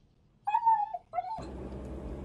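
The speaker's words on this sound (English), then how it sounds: "did you have to bring the stupid dog with you?" Dog whimpering inside a car, two short high whining cries close by, followed by steady low road and engine rumble.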